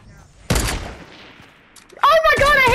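Gunfire in a shooter video game: a sharp loud shot with a long decaying tail, followed by a second burst of rapid ringing shots, with a voice heard near the end.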